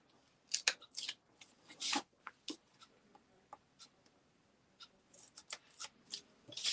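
Tape is unpicked during cracker making, giving a string of close, sharp little clicks, snips and crackly rustles that come in irregular bursts.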